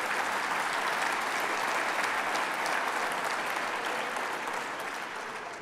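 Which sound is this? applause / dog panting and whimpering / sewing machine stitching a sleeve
applause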